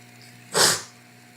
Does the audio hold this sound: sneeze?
yes